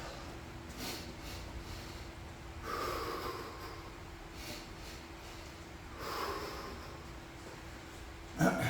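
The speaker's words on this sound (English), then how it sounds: "Inhale, exhale." During a garage workout, a person breathes out in a few forceful, breathy exhales spaced several seconds apart, close to the microphone, ending with a short sharp noise.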